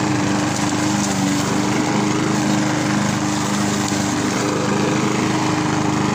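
A petrol lawn mower engine runs continuously at close range, a loud, steady droning hum with a constant buzzy tone and no voices.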